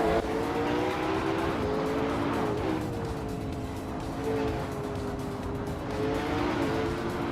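Video game race cars drive in a steady, loud engine drone with shifting pitch as they accelerate and pass, one of them a 2019 IPS Kuruma, with brief tire squeal and no talk.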